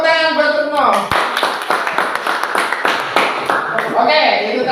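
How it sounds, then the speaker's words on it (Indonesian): A classroom of students bursts into a short round of applause for a classmate, scattered hand claps rising quickly and tapering off, with voices calling out over and around the clapping. "Tepuk tangan buat Reno"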